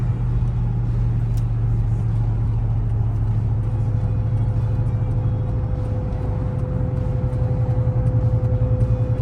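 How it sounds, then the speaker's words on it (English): Vehicle engine with a whining intake while driving, a steady drone running throughout with a sustained tonal whine riding above the low rumble, with no talking. "That intake's whining."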